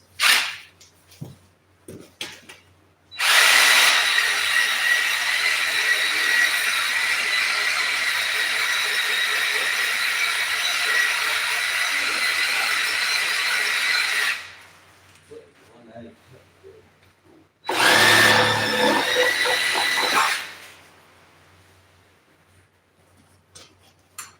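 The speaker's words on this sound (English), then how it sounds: "Handy dandy sawzall for cutting brake lines" A Sawzall reciprocating saw cuts brake lines while the engine is being dropped out of a 2001 Nissan Pathfinder. It makes two loud, close, sustained bursts, one about eleven seconds long and a shorter one after a pause, with faint shuffling between.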